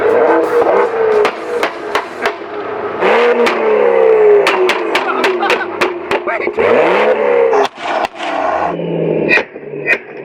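Car engine idling and warming up, later rigged to shoot flames, running steadily and close with rising and falling revs, punctuated by sharp knocks and clanks.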